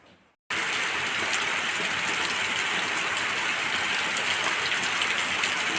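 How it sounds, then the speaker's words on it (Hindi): After a brief quiet start, dense heavy morning rain in a village pours steadily, a loud continuous hiss of drops hitting surfaces nearby. "आज सुबह से ही मैंने देखा तो बारिश बहुत ज़ोर की हो रही थी"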